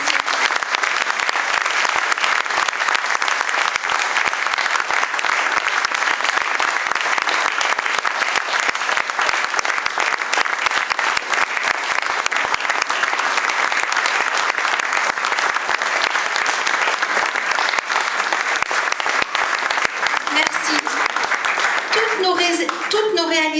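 Audience at a mayor's New Year address applauds steadily and loudly for over twenty seconds, a dense wash of clapping that fades near the end as a voice begins speaking.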